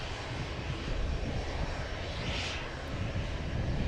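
A Boeing 787-9 Dreamliner arriving from Abu Dhabi at Manchester Airport, a close, steady jet roar with low rumbling underneath and a brief rising-and-falling whoosh midway; no talking.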